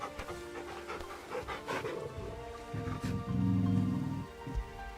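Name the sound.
dog panting while petted, Final Fantasy 16 video game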